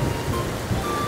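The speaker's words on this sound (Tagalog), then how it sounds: "malakas talaga ang agos ng tubig." Strong flowing river water during a typhoon near a stockyard market, a steady rushing wash of current heard close by with no voices.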